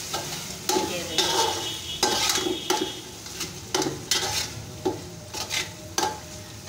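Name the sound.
stir-frying ground spices with red chilli powder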